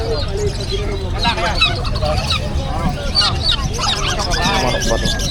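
Chicken and other fowl at the Bocaue pet market in the Philippines give repeated honking, squawking calls over a dense, noisy crowd, with people talking nearby throughout.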